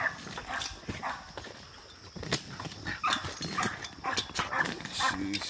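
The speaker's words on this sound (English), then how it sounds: "These some Eli bred dogs." Several dogs bark in short irregular bursts at mid distance, mixed with clopping and someone talking over them.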